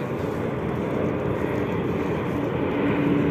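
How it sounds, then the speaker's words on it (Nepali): An airplane flies overhead near the University of East London, its engine a continuous loud roar that grows slightly stronger toward the end, with no talking. "माथितिर प्लेन उडिरहेछ एउटा प्लेन आइरहेछ"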